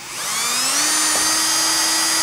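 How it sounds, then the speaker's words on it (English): A power drill with a bit slightly smaller than the screw pre-drills holes in post flashing, spinning up to a loud, steady high-pitched whine that holds for about two seconds, close by with no speech. "Now, pre-drilling, you just have a bit that's a little bit smaller diameter than the screw"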